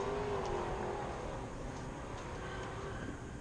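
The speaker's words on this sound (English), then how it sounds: "Someone's doing a burnout." A car burnout nearby, a steady roaring engine with tyre noise holding at an even loudness throughout, with no voices.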